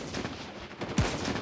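A single sharp sniper rifle shot rings out in a video game, a sudden loud crack standing out against a constant noisy game background.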